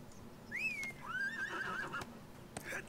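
A horse neighs in the ArcheAge video game, a clear high whinny followed by a longer wavering neigh, fairly quiet, with faint clip-clop in the background.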